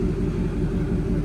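A Ford S550 Mustang with its first exhaust mod sits idling, a loud, deep, steady rumble with a slight throbbing pulse filling the short stretch without any voices.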